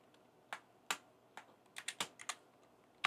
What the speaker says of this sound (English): are typing on a keyboard on our phone